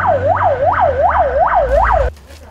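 Ambulance siren on the road, a loud, close wailing siren sweeping up and down in rapid repeated cycles with a low engine rumble beneath, then cutting off abruptly near the end.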